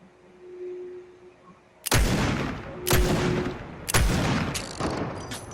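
Three sharp, loud pistol shots in a video game, evenly spaced about a second apart, each ringing out with a short echoing tail over a quiet background hum.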